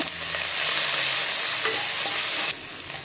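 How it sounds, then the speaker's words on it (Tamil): Dried chillies, asafoetida, curry leaves, garlic and green chillies fry in hot oil for a vegetable kootu kuruma, giving a dense, loud, continuous sizzle with stirring that drops slightly near the end. "2 காஞ்ச மிளகா, பெருங்காயம், அதெல்லாம் பொரியும் போது கருவேப்பிலை, பூண்டு, பச்சை மிளகா,"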